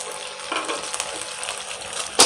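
Chicken pieces frying in a karahi for white karahi, a steady close sizzle and crackle that holds throughout, with light stirring and a sharper burst near the end.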